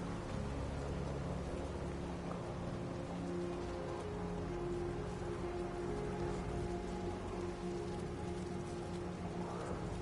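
Steady rain falling across an alien planet in the No Man's Sky video game, a constant hiss of drops with a low rumble underneath, even and unbroken throughout, with no talking.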